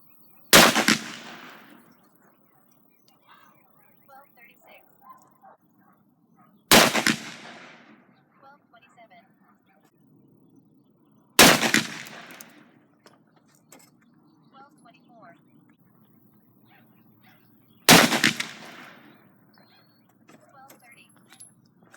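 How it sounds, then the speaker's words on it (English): Four loud, sharp gunshots from a Smith & Wesson Model 629 .44 Magnum revolver with a 3-inch barrel, spaced about five seconds apart, each with a short decaying echo over quiet outdoor background. "I'll be shooting these out of my Smith & Wesson Model 629, which has a 3-inch barrel."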